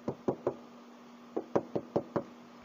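Knuckles rap on the lightweight Tech Body panel of a 2023 Suzuki XL7 Hybrid Alpha automatic: a quick burst of three solid knocks, a pause, then five more, close and clear with no talk over them.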